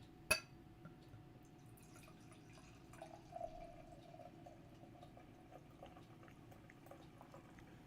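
Stout beer pours slowly into a glass as a faint, close trickle and fizz, with a sharp clink at the start and soft gurgles partway through.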